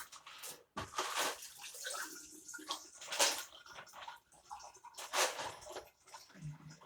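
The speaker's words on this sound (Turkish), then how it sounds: "O yüzden şimdi suyu döküyorum." Water is poured out in uneven gushes, with splashing, sloshing bursts separated by short quiet gaps, close and fairly soft.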